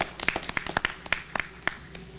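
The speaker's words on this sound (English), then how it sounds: "You can clap." Audience in an urban education panel event claps in scattered, uneven bursts, several sharp hand claps spread across the moment, moderately close but fairly faint, without talk.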